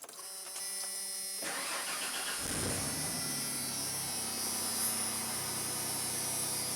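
1992 Ford F150 just fitted with a new fuel pump: a fuel pump hums and the starter cranks briefly, then the engine catches and settles into a steady idle, close and moderately loud, with no talking.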